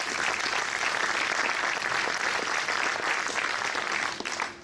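Sustained audience applause at the opening ceremony of a film festival, the FIFFH 2017, a fairly distant, even wash of many hands clapping that thins out near the end.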